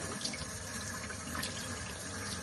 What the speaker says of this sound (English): I'm just rinsing this off